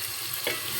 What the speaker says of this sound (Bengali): আলু কষানো হয়ে গেছে।